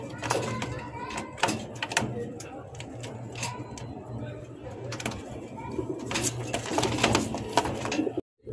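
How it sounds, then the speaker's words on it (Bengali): Low, repeated cooing of a male Golla pigeon close by, sustained in rhythmic bursts, mixed with other bird sounds and sharp tapping noises. "আর নটটা কি সুন্দর ডাকতেছে।"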